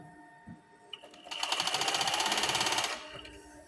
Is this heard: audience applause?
no